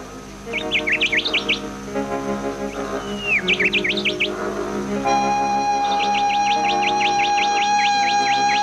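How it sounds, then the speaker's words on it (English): Water birds call repeatedly at a Queensland lagoon over a steady droning background, bursts of high chirping trills and whistles, one sustained tone joining partway through. "The beautiful lagoons support an abundance of water birds"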